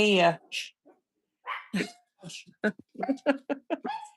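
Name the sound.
dogs barking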